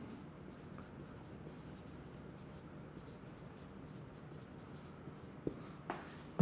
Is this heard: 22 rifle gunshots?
no